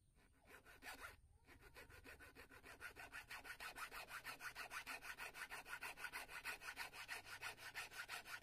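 A hand file rasps steadily against a small homemade metal eel fishing hook, fast even back-and-forth strokes after a short pause near the start, close and fairly quiet, with no talking.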